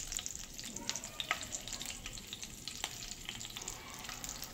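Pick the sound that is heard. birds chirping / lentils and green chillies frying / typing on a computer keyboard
lentils and green chillies frying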